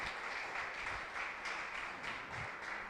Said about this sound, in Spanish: Démosle un fuerte aplauso a Dios por ellos.